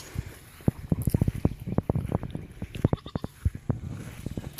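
Goats on a farm bleat repeatedly in short, irregular calls, some close and some farther off, with light wind in the background.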